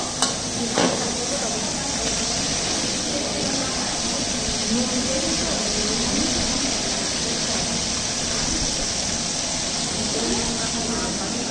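Meat and spices frying in a large pot for a communal biryani, a steady, loud broadband sizzle with stirring scrapes running throughout, with voices talking in the background.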